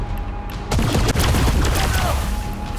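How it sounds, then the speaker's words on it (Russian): Heavy gunfire shooting through walls in the video game Wasteland 3, a booming burst of shots erupting suddenly and rumbling on in quick succession over low game ambience. "Люблю, знаете ли, пострелять сквозь стены."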